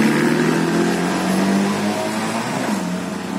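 A Ducati Multistrada big bike revs loud and close at a mountain-road checkpoint, its engine a steady, deep car-like roar that rises and holds for a few seconds without any talk.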